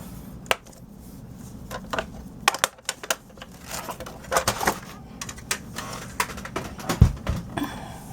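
Paper being scored on a scoring board for a gift box, quiet irregular clicks, taps and scrapes of the tool against the board, close and sparse, with no talking.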